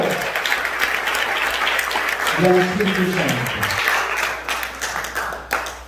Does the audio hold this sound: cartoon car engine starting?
no